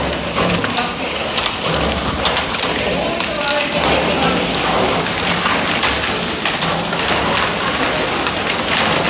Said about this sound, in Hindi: जी ओले पड़ रहे हैं, ओले दिखाएं।